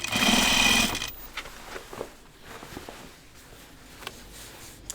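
A sewing machine stitches a jeans waistband in a loud, fast burst for about a second, then stops, leaving only soft handling noises and faint taps.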